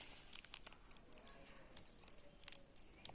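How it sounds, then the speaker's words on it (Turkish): Adhesive tape being pulled and pressed onto a paper craft piece, over and inside it, giving close, quiet crinkling and short sticky tearing sounds in irregular bursts, with no talking. "on üst, üstünü de içini de bantlıyoruz."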